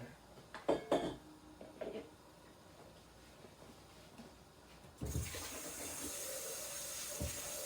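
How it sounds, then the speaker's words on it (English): Water poured into a pot of home-style beef stew with potatoes, a faint splash and pour beginning partway through and continuing steadily after a few quiet clinks at the start. "I'm gonna put a little more water in there."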